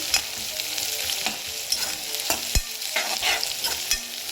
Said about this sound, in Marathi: मिरची हा मिरचीचा ठेचा आपण आता व्यवस्थित परतून घेऊया।